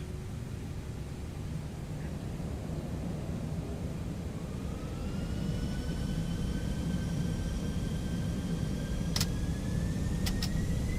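ToLiSs A320ceo engines spooling up to takeoff thrust in X-Plane 12 on a runway departure from Cebu: a steady broadband roar that builds in the second half with rising whine tones, plus a few brief clicks near the end.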